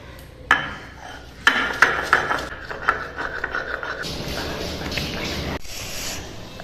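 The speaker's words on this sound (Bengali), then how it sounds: "এখানে নিয়েছি শুকনো লঙ্কা, কাঁচা লঙ্কা, আদা কুচি, রসুন আর গোটা গোলমরিচ একসাথে বেটে নেব।" Dried red chillies, green chillies, chopped ginger, garlic and whole peppercorns being ground together, with irregular knocks and scrapes at first, then a steady, gritty rubbing and grating close by.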